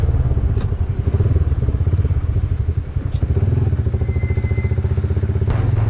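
A motorcycle engine thrums in a steady, rapid pulsing rhythm while riding on a road out of Islamabad toward Murree, loud and close from the rider's position, with wind and occasional clatter and no talk.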